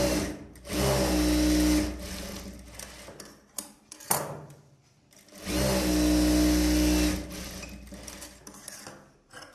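A sewing machine stitches a blouse in close, loud bursts of rapid mechanical whirring, two long runs of about two seconds each separated by short stops, shuffling and brief handling noises.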